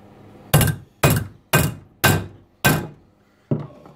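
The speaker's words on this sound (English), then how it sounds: "I'll work that out on the hammer and on the vise." Bent brass stock is struck against a vise with a metal hammer, six solid ringing blows at a steady half-second pace, close up and loud, the last one softer.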